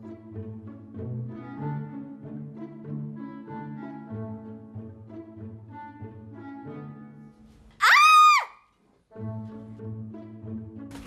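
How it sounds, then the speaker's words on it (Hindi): A girl screams loudly at a cockroach, one piercing shriek of about a second that cuts in over a steady musical drone, which drops out briefly after her cry and then returns. "तो चिल्ला क्यों रही है?"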